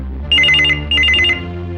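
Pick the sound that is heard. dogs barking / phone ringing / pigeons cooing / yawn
phone ringing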